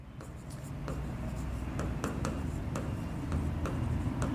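Handwriting while working a coordinate geometry maths solution: close, steady pen-on-paper scratching with sharp little taps as strokes start and stop, continuous for a few seconds.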